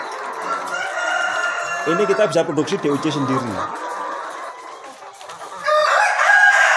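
KUB chickens at a poultry farm crow and cluck, a rising rooster call standing out clearly mid-clip, with someone talking over the birds throughout.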